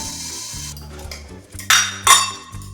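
A metal plate is set as a lid over a pan of chicken cooking in spices, giving two quick, fairly close metallic clanks against a steady low background hum.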